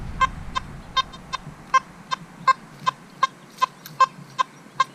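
A Nokta Makro Simplex metal detector in beach mode sounds a repeated target signal, about a dozen short, clear, evenly spaced electronic beeps over steady faint background noise.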